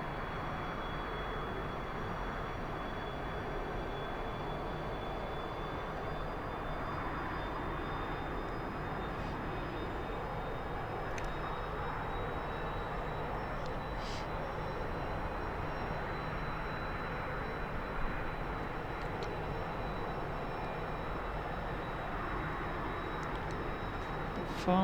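The T-45C Goshawk jet engine in the DCS flight simulator drones in a continuous, even roar with a faint high tone running through it, steady and unbroken.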